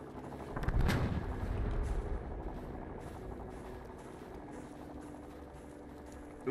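Gunfire in the game Fallout: The Frontier, with a loud burst of boomy shots near the start that fades into a continuous rumbling background of distant combat and noise.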